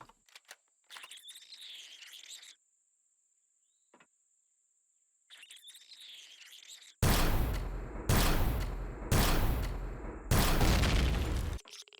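Turret gunfire in the video game Empyrion Galactic Survival 1.8, inside an abandoned drone base. Quieter whirring game sounds come first, then four loud, harsh bursts of rapid fire, each lasting about a second, close and dominant.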